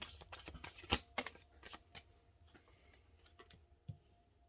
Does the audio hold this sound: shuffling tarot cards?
yes